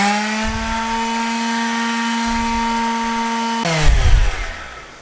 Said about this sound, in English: I'm actually holding some of the weight of the palm sander off of the work